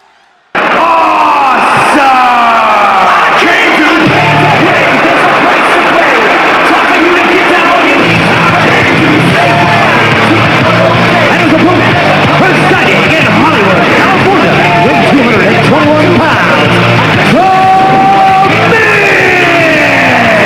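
A virtual arena crowd at a WWE 2K24 Raw wrestling match in a no-disqualification bout, loud sustained cheering and yelling that starts abruptly and roars on steadily with shouts and bursts, and no commentary over it.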